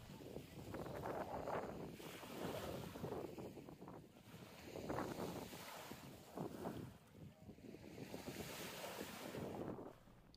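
River water lapping and surging at the Hood River waterfront park in Oregon, loud, rolling washes rising and falling in slow swells, mixed with heavy wind buffeting the microphone.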